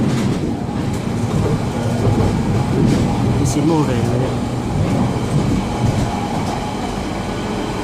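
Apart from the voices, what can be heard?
train passing on railway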